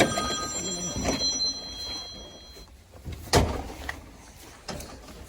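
A telephone rings from an unknown caller during a home heating service call, with several fairly faint ring bursts over room noise, a thud and a knock, while people talk quietly nearby.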